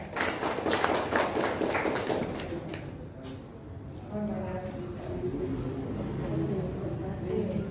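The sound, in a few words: audience applause for the chairman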